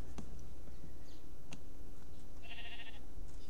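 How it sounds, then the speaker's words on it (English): A sheep in Minecraft's RLCraft modpack gives a short bleat, up close and brief, over steady game background noise with a few clicks. "There's too many sheep."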